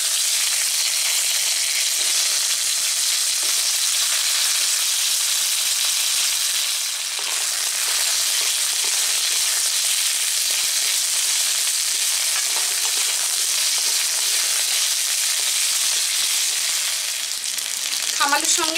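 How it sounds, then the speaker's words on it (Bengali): Purple yam (kham alu) frying lightly in hot oil gives a steady, close, unbroken sizzle that holds its level throughout, with a few utensil scrapes near the end. "খামালুটা হালকাভাবে ভেজে নেব।"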